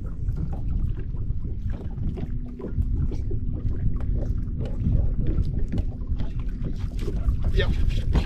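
Strong wind buffets a bass fishing boat on Lake Pleasant, giving a constant low roar and rumble of wind against the microphone, with a faint hum and occasional knocks and splashes underneath.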